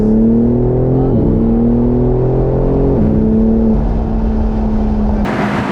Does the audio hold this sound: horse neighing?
no